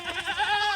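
Goats on a farm give one close, wavering bleat that rises and falls, heard alone without talk.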